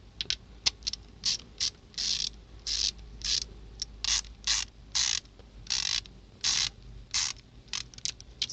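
A Kobalt Pro90 flex head stubby ratchet clicks in short bursts of fine rapid ticking, each stroke about half a second long in an uneven rhythm, very close and fairly quiet, with no voices.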